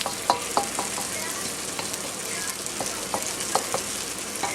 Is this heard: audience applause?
no